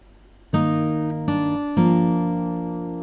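Open fourth and third strings of an acoustic guitar are plucked together three times, each pair ringing out and slowly decaying, heard alone with no talking.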